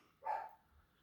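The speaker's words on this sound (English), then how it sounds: "as you can hear my dog going a little crazy over there" A single muffled dog bark comes from another room, faint and brief.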